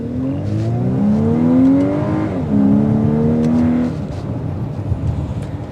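A 2024 VW Atlas Cross Sport turbo four-cylinder engine accelerating hard with rising harmonic pitch, a brief shift dip midway, then climbing again before easing off into steady road noise.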